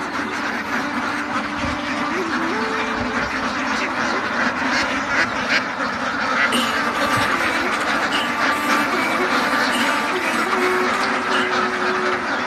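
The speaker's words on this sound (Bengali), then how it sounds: "দেখুন হাজার হাজার হাঁস, শত শত হাজার হাজার হাঁস এখানে অবস্থান করতেছে।" A huge flock of thousands of ducks at a poultry farm quacks constantly, a dense overlapping chorus that fills the whole scene at steady loudness.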